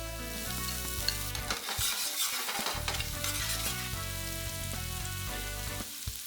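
Chopped ginger, garlic and green chili sizzle steadily in hot oil in a pan, a loud continuous frying hiss with stirring scrapes and clinks throughout, no talk.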